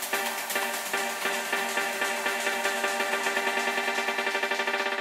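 A synth preset recreated in U-He Diva after a track plays a bright, dense chord with a steady pulsing rhythm, sustained throughout and without any talking.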